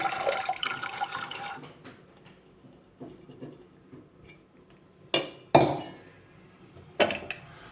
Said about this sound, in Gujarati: મીઠું એડ થઈ જાય એટલે આપણે સફેદ વટાણા એડ કરી દઈશું